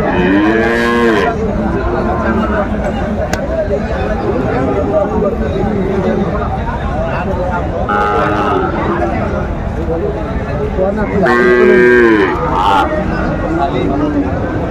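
A Sahiwal calf moos loudly three times, spaced several seconds apart, over a busy crowd of chattering voices at an outdoor cattle market.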